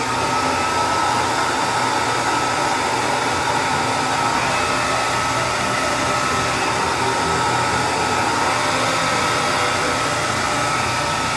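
A hair dryer blows continuously with a loud, even whooshing whir and no other sounds.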